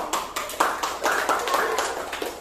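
Children at a university community-service activity clap their hands together in a series of distinct, close claps, roughly four or five per second, with a few faint voices around them.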